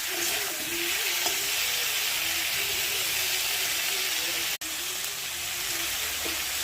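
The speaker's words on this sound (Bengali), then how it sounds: "বাঁধাকপিটা দিয়ে দিলাম বাঁধাকপি কারণ কি বাঁধাকপিটা হতে অনেকটা সময় লাগে সেই জন্য দিয়ে নাড়বো" Cabbage fries in spice masala and is stirred in the pan, making a loud, steady sizzle and hiss with a low background hum and a brief sharp cut partway through.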